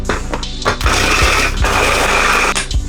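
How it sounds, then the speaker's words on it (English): A kitchen mixer grinds graham crackers into crumbs with a loud, continuous whirring roar and rattling, broken by several short pulses and thumps, close up with no talking. "Now, get a mixer. In it, we're gonna add 160 grams of graham crackers."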